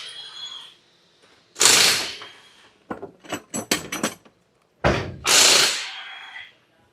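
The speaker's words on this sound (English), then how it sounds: "you can always remove that with a power tool" Bursts of a power tool whirring, separated by short clicks and rattles of metal parts, close by with no talking, while removing 10 mm and 19 mm fasteners during a water pump replacement on a 2021 Genesis G70 3.3.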